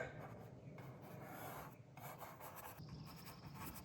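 Paintbrush scrubbing oil paint onto canvas while painting a landscape outdoors, a close, soft, dry rubbing and rasping texture in uneven back-and-forth strokes.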